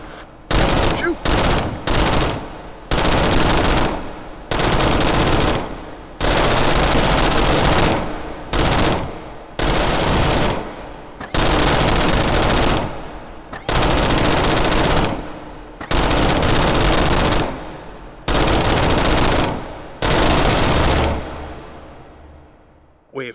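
Machine gun fire in the VR shooter H3VR, about a dozen loud sustained bursts, each lasting one to two seconds, separated by short pauses.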